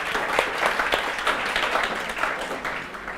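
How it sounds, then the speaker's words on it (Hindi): Audience applause at a law revision lecture, a steady wash of many hands clapping that holds evenly for a few seconds with no talk over it. "एक बार जोरदार तालियां आप सब लोगों के लिए"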